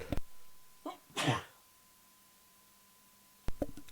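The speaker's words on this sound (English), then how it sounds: "Sorry, I had to sneeze." A single sharp sneeze close to the mic, preceded by a brief intake of breath and followed by a pause and faint rustling.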